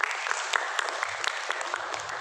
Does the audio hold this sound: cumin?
no